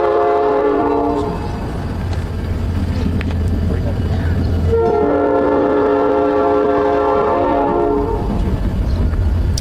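A passing train rumbles steadily while a loud, sustained horn sounds in long blasts, breaking off briefly midway before blaring again over the continuous rolling noise.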